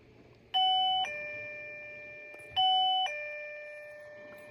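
A LETWESAF radar alarm chimes twice to signal detected motion, each one a clear two-tone electronic ding-dong that rings out and fades in a quiet room.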